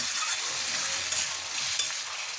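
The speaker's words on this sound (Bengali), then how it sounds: "মশলাটা কষা হলে মশলাটা একটু নাড়াচাড়া করি।" Spice masala with tomatoes fries in an egg omelette curry, giving a bright steady sizzle close by, broken by two quick scrapes of a spatula across the pan, with no speech.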